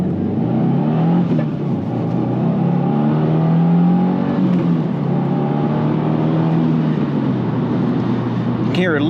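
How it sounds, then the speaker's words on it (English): A 2024 Subaru WRX accelerating, its engine rising steadily while the turbo spins up faintly beneath the drone, heard from inside the car with a continuous loud road and engine noise throughout. "You can hear a little bit of the turbo, but it's not much. Just a little bit of it spinning up."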